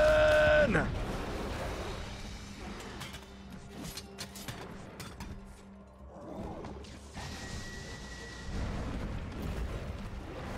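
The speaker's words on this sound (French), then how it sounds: "Explosion." A sharp burst opens an explosion in the game Monster Hunter World, its rumble decaying into scattered crashes and mechanical clatter, with a second swell of rumbling later on.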